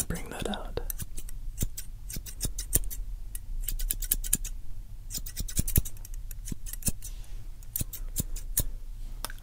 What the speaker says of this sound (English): Careful with sharp scissors.